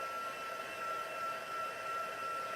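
A heat tool blowing steadily to dry a freshly stamped card, a continuous even whirring hiss with a thin whine running through it, unbroken from start to finish.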